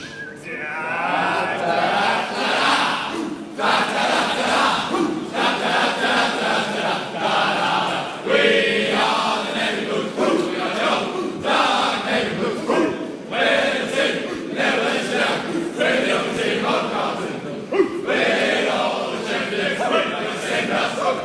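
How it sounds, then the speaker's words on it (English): A large crowd of fans and families fills a Melbourne stadium before an AFL round 1 match, Carlton against Richmond, producing a steady, dense roar of overlapping voices and cheering that holds loud throughout with no single voice standing out. "there's a pretty big crowd of fans and family in here"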